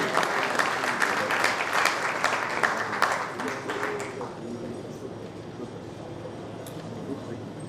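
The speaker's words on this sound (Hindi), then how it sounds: "जोरदार तालियां हो जाएं उनके लिए।" A crowd at a Rajasthan school education event in Bikaner breaks into loud applause that holds for about four seconds, then dies away into quiet room ambience.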